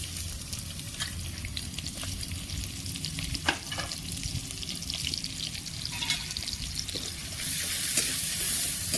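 Chopped onions sizzle and crackle in hot oil in a home kitchen pan, a steady close hiss with occasional stirring scrapes and clinks, swelling slightly louder near the end.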